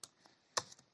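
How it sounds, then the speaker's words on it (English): Computer keys are pressed in a quick, close, faint sequence while entering a command in a Python Pandas data analysis session, with a sharper keystroke in the middle and lighter taps around it. "click shift enter"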